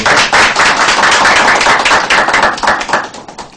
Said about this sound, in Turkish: Bir alkış Fethullah Hocam